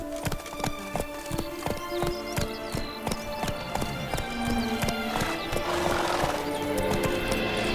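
Roach, a horse in The Witcher 3, gallops with a steady stream of close, crisp hoofbeats over game music, and a short whinny breaks in partway through.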